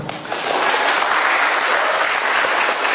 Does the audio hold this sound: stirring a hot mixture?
no